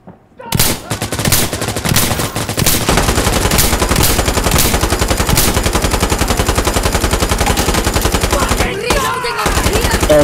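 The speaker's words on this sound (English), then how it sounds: "somebody with an M240 Bravo outside is shooting at them" An M240 Bravo machine gun fires long, loud, continuous automatic bursts in Insurgency Sandstorm, rattling fast and close for nearly ten seconds, with one brief pause near the end.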